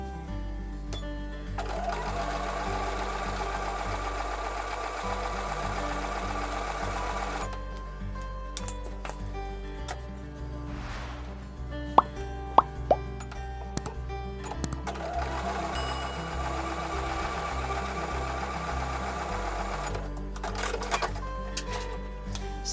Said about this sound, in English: I'm going to sew those half square units right sides together along the short edge of the rectangles